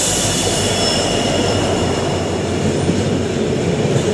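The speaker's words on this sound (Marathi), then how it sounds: "मित्रांनो आता आहे ना आपली ट्रेन आलेली आहे" The Madgaon Express rolls into a station platform, a loud, constant rail roar with high metallic wheel squeal sustained throughout and faint clicking from the rails, no one speaking.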